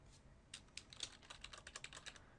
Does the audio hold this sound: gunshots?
no